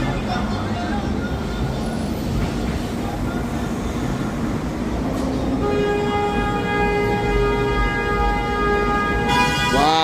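Long, sustained train horn blasts sound over a steady, heavy rumble near Grand Central Station in New York City, with the tones joining in partway through and holding loudly to the end.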